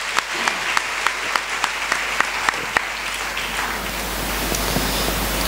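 Congregation clapping hands in thanks to God, a crowd's applause with a sharp, regular rhythmic beat of clapped accents in the first half, then a denser, louder wash of clapping toward the end.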